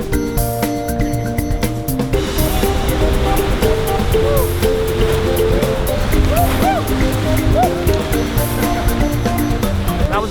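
White water rapids on the Kern River in California crashing and splashing around a raft, a loud continuous rushing roar close by, with musical tones running underneath.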